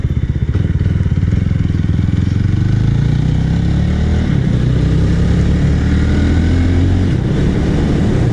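A BSA motorcycle engine buzzes loudly and steadily as it rides on country lanes, the pitch climbing gradually under acceleration, with no talking.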